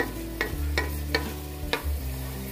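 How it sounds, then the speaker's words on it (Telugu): Onion paste fries in a pan for Andhra-style fish curry, a soft sizzle under a low hum, punctuated by four or five crisp scraping stirs of a spatula at fairly even intervals. "దీన్ని కొద్దిగా లైట్ బ్రౌన్ కలర్ వచ్చేంత వరకు, గోల్డెన్ బ్రౌన్ కలర్ వచ్చేంత వరకు మనం ఫ్రై చేసుకోండి"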